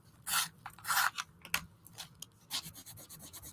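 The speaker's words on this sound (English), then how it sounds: "try sharpening one of the new pencils and see if it makes a difference" A colored pencil is sharpened in short grinding bursts, a dry scraping rasp that comes in uneven strokes close to the listener, with brief quiet gaps between them.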